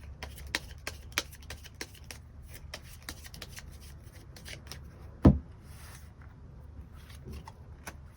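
Tarot cards are shuffled and drawn by hand: soft rubbing and riffling with scattered crisp clicks and snaps, one louder slap midway, close up and without speech.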